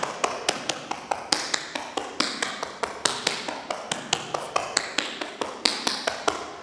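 Steady, evenly spaced tap shoe strikes on a hard floor, crisp and close, continuing in a regular rhythm without any talking.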